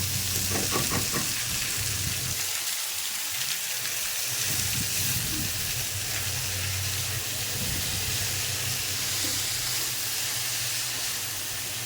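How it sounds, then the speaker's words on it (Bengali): Kalmi greens tossed into a pan of fried onion and prawns, a loud steady sizzle and hiss with stirring scrapes, continuous and close throughout. "আমার পেঁয়াজ আর চিংড়ি মাছ ভাজা হয়ে গেছে। এখন শাক দিয়ে দিলাম"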